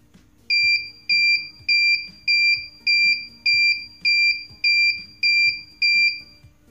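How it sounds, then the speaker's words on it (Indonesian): A power-outage alarm buzzer module beeps repeatedly in a steady rhythm, about ten short high-pitched beeps, loud and close, with a faint low hum underneath. "buzzer akan berbunyi bip berulang-ulang"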